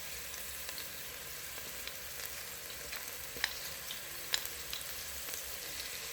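Onions and grated garlic fry in a pan with a steady, even sizzle and crackle that holds throughout, with two brief sharper pops standing out, and no one talking.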